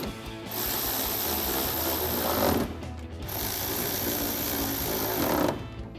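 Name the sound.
8mm socket tightening headlight bolts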